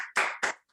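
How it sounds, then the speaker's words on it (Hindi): Two sharp hand claps in quick succession during a morning yoga session, close and clear with a short gap between them and no talk. "भाई ताली बनती है हमारी बहन के नाम।"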